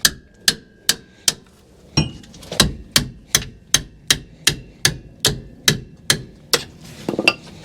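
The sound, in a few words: hammer striking brake caliper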